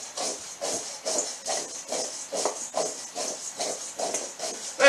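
Seasoned potatoes coated in pepper, basil, salt and garlic powder being tossed in a bowl, a close rhythmic swishing and rubbing that repeats about every third of a second.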